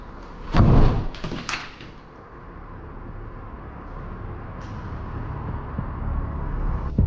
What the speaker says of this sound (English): a door right next to him slams shut